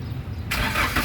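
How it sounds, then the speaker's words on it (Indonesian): A 2015 Daihatsu Gran Max 1.5 diesel with a manual gearbox cranks and fires, its engine catching halfway through and settling into a loud, rough running roar close by. "barulah kita coba nyalakan mobil"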